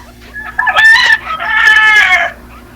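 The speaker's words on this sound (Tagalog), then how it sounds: "Maraming manok. Pansabong yan." Fighting roosters crow loudly and close by in two long, drawn-out calls, one after the other, with faint clucking around them.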